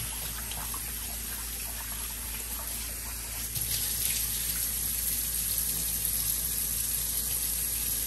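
Tap water runs steadily into a kitchen sink over raw beef being soaked for beef chow fun, a constant close hiss and splash that grows slightly louder partway through, with no talking.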